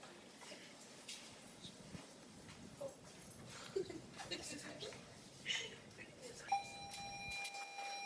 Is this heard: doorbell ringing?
yes